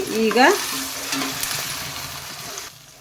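Three mashed tomatoes hit hot oil in a pan for a tomato rice lunch-box dish, opening with a loud scraping stir, then a steady close sizzle that slowly fades, with no talking.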